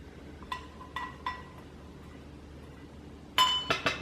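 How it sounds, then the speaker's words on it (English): A utensil stirs avocado mayo sauce in a glass bowl, producing a few sparse, quiet clinks against the glass, then a louder cluster of ringing taps close up at the end. "you want to mix this in a separate bowl so that you can get it all stirred up together"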